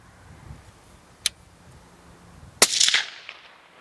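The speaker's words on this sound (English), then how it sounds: "Shot number 1 with the Whisper Pickle 30" A single sharp suppressed gunshot from a rifle fitted with a Whisper Pickle 30 suppressor, fired at close range. It cracks loudly and trails off in a short echoing tail, with a fainter click or pop heard shortly before it.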